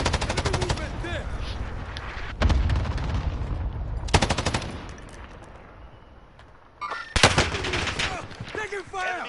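Bursts of automatic gunfire in a military shooter game, sharp volleys cracking out around 2.5, 4.3 and 7.2 seconds over a steady background of battle noise.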